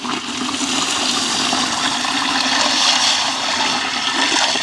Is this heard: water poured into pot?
yes